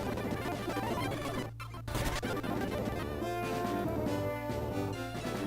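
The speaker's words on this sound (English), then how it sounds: "normally my fast forward sounds like this" Pokemon Fire Red game audio running at emulator fast forward speed blares as a dense, harsh, grating wash of sped-up music and effects, loud and continuous with a brief dip partway through.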